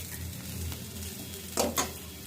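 Onion frying slowly in a pan, a soft, low sizzle with a couple of brief scraping stirs near the end, faint and alone.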